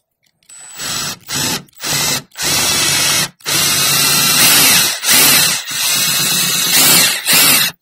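A power drill with a slightly dull, well-worn bit bores holes up to half an inch, in loud, close whirring bursts that start short and choppy and then become longer, sustained runs with brief pauses.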